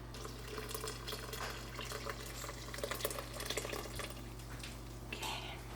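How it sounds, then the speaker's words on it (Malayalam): Strained jaggery syrup is poured into cooked rice in a pressure cooker for Kerala sadya ari payasam, giving a quiet, continuous liquid trickle with faint splashes up close. "അത് നമ്മൾ അരിച്ചിട്ട് ഇതിലേക്ക് ഒഴിക്കുകയാണ്."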